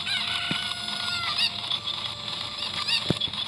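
Cucco chickens squawk and cluck in the video game Zelda Ocarina of Time, with a few short bird calls and sharp clucks over a steady background game music bed, alone with no talk.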